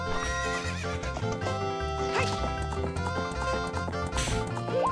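A horse in Zelda: Ocarina of Time whinnies and its hooves clip-clop, set against busy, loud game music throughout.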